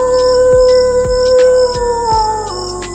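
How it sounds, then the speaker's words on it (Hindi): A dog howls in long, wavering, drawn-out wails at night, mixed with steady tones and a repeating low thump, moderately loud with no voices. "दूर कहीं कुत्ते की रोने की आवाज आ रही थी।"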